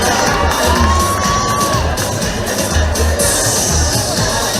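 A large outdoor crowd at a political public meeting on a promenade cheers and whoops loudly and continuously, with shouting voices rising above the din.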